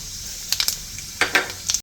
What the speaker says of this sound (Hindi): तो जीरा चटक गया है